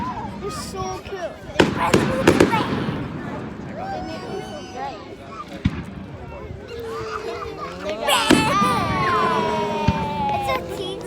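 Fireworks at a bonfire night display in Kirkcaldy pop and crackle with several sharp bangs and whistling fizzes, set at a middling distance, while a crowd murmurs and children chatter close by.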